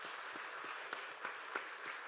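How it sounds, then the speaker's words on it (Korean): A church congregation claps together during a Sunday worship service, a steady wash of applause with a few sharper, louder claps standing out, and no voices over it. "우리 박수하십시다."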